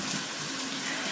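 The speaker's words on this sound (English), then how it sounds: "Rinse my hands." Hands rinsed under running tap water in a home kitchen, a steady close splashing rush that fills the whole brief moment.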